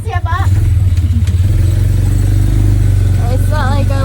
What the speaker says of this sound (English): we're going on a go-kart